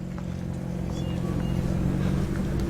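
A heavily modified Subaru racing car with a turbocharged flat-four engine runs on a wet Oulton Park circuit during a track day, a steady low engine drone at moderate distance.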